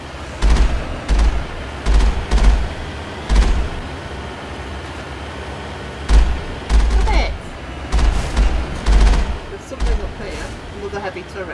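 Gunfire bursts in Mass Effect, loud repeated volleys of shots in short clusters with brief pauses between them, over a low background hum; speech is also detected in the clip.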